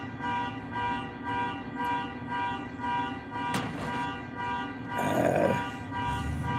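A car horn honks repeatedly in a regular pulsing pattern, steady and moderately distant, broken by a brief sharp click and a short burst of other noise near the end.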